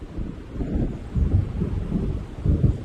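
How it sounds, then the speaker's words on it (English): Rumbling thunder from a storm in the horror video game Alan Wake rolls in low, heavy waves that swell and fade repeatedly, with no voices over it. "It seems there's a storm coming."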